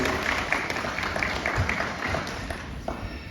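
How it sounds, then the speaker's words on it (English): Scattered applause from an outdoor audience at a bird display show at Flamingo Land, steady and moderate across the whole stretch with light crowd noise mixed in. "a round of applause for you guys"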